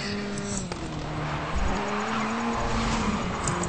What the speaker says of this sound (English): if you can hear the tire screeching, I'm pretty much locking up my rear wheels whenever I initiate the drift.